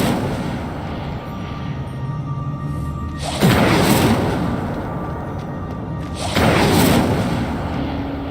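Incendio fire spell cast in Hogwarts Legacy, two loud whooshing fiery bursts about three seconds apart over a low game ambience.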